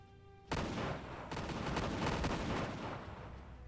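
Gunfire in the space strategy game Imperium Galactica bursts in suddenly, then keeps up as a dense, continuous roar of shots and rumble for several seconds with no voices.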